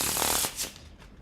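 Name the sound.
shuffling playing cards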